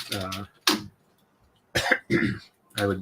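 A person coughs several times in short bursts with pauses between them, close to the listener, some coughs sounding throaty and voiced.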